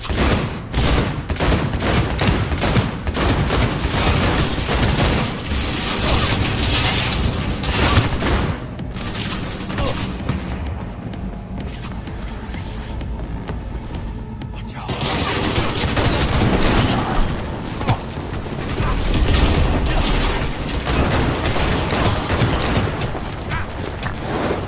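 Sustained gunfire from a Cyberpunk 2077 firefight, dense bursts and rapid shots layered with booms, loud and nearly continuous, easing briefly midway before resuming at full intensity.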